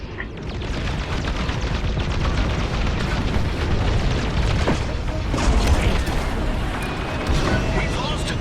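A satellite dish blows up during space combat in Star Wars: Squadrons, a deep rumbling explosion roar that stays loud and continuous, layered with dense game effects and crackling bursts throughout.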